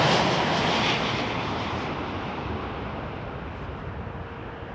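A Boeing 787 airliner landing on runway 6 right at Toronto Pearson makes a steady jet roar that fades gradually as it passes, with some wind noise and no voices.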